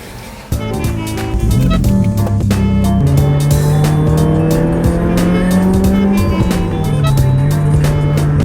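A new Subaru WRX engine revs loudly and steadily up close, its pitch climbing and settling over several seconds, with some tire noise mixed in.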